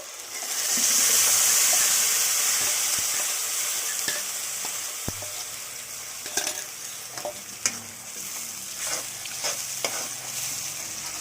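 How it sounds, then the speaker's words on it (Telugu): Ground tomato goes into a hot iron kadai for mushroom curry, setting off a loud, rushing sizzle that slowly settles, followed by scraping stirring strokes over the continued frying hiss. "ఐరన్ కడాయిలో వండుతున్నానండి. ఇది టమాటా ముక్కల్ని గ్రైండ్ చేశానండి. ఇప్పుడు ఇందులో వేసేస్తున్నాను."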